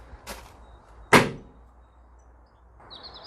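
Rear barn door of a Ford Transit Custom long-wheelbase van swung open, with a light click followed by a sharp, close latch clunk and a thin squeak near the end, no talking.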